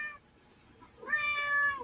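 A pet cat meows once at close range, a clear rising-and-falling cry after a brief faint sound, set in a quiet indoor room.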